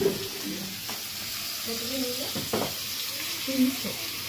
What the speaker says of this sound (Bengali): মাছ ভাজা করছে